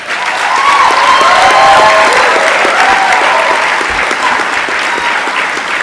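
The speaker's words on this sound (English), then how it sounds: "And please give them a round of applause." Sustained, loud applause from a large audience at a keynote address fills the space evenly from start to finish, a dense wash of clapping with faint cheering mixed in.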